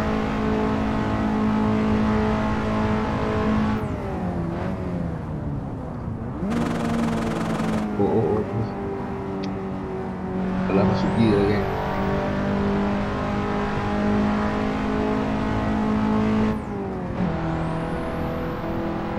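A Proton Saga R3 engine revs hard through the gears in the Assetto Corsa racing game on a Genting Highlands mountain touge road. It rises in pitch, drops at gear changes and keeps running steadily and loudly with no voices.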